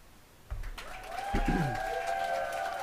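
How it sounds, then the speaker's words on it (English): A studio audience on a talk show breaks into applause that swells from a soft start, with a few voices and whistles rising over the clapping. "Thanks for the applause."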